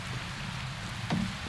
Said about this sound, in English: So it's hailing right now.